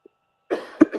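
A single harsh cough close to the microphone, two quick bursts within a second after a brief silence, the second sharper and louder, alone without talk.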